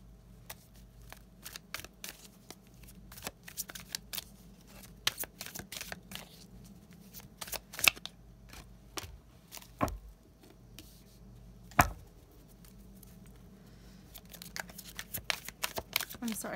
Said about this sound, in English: I'm sorry the shuffling takes a while, but I'd rather you guys see me shuffle.